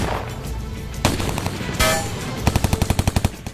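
Machine gun fire in a TV drama battle scene: scattered loud shots and a burst of blasts, then a fast rhythmic string of about a dozen close, sharp rounds.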